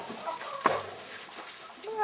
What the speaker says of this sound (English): Scared chicken.